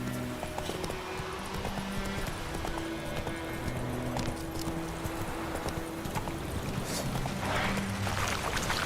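Hoofbeats of a horse in The Witcher 3 clip-clopping steadily over a continuous wash of ambient game sound, with no break across the whole stretch.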